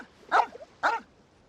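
A dog in Genshin Impact gives two sharp, close barks about half a second apart, each short and bright, with quiet between them.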